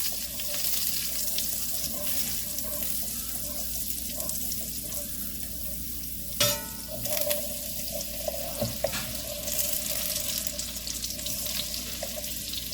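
Butter sizzles and fries in a pan with a steady hiss, broken by a few clinks and scrapes of stirring, close and moderately loud with no talk.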